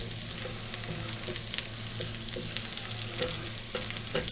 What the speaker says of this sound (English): get it to frying